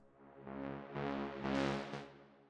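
A swelling synth pad with a rhythmic pulsing wobble, rising and falling in several surges over a couple of seconds, with a reversed, backward-swelling feel.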